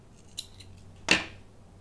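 Scissors trim the end of a knit tie: a faint snip followed by one crisp, close cut, with quiet surroundings and no talking.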